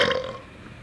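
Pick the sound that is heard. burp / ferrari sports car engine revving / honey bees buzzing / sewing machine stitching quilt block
burp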